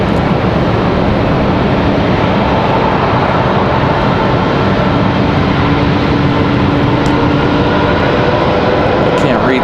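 An Airbus A220 jet airliner with Pratt & Whitney engines at Raleigh-Durham International Airport, a loud, continuous engine roar close by with a faint whine, dominating the whole stretch.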